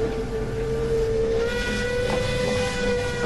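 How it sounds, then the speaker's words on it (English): A steam whistle sounds in a long, steady tonal blast over a hissing, rumbling background. "The engine whistled again,"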